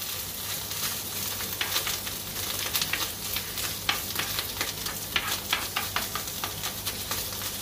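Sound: food sizzling while being warmed in a frying pan

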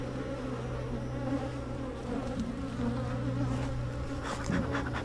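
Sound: angry honey bees buzzing

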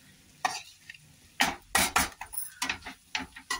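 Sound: stirring poha with fresh coriander

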